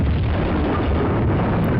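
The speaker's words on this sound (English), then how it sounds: "Cause a kaboom! Explosion!" A deep, rumbling explosion in the Tomb Raider 2 game, heavy low boom sustained through the short span with no voices, loud and close.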